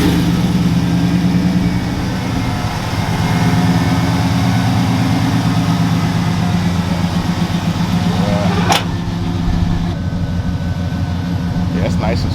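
A C10 truck's engine runs smooth and quiet with a steady low drone while driving, under continuous road and cabin noise, with a sharp click partway through.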